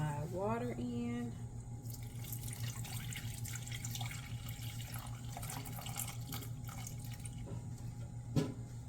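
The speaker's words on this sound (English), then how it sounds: "this is where I'm going to go ahead and pour my water in" Water is poured into a pot on a stove, a soft, continuous splashing stream under a background hum, with a faint voice speaking at the start and a small knock near the end.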